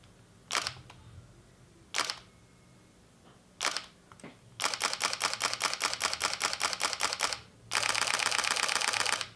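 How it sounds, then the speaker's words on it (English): Fuji X-T2 camera shutter fires crisp, close single clicks, four spaced apart, then two rapid bursts of evenly timed clicks in quiet surroundings. "Here is how the shutter sounds on single release and burst modes."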